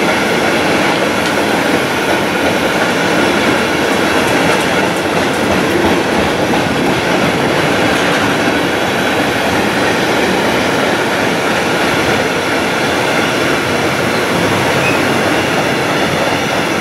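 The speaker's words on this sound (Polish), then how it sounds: "przy peronie pierwszym przejedzie pociąg bez zatrzymania" A train thunders through Łowicz Główny station at platform one without stopping, a loud, steady roar of wheels and rattling cars sustained close by throughout, with no one speaking.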